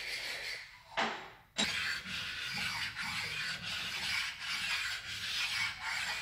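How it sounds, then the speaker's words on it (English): Hand sanding of old head gasket residue on the cylinder head of a Cummins engine in a Land Rover Defender 90: quiet, continuous scratchy rubbing in repeated back-and-forth strokes, with a sharp scrape near the start. "This is just doing a very minor"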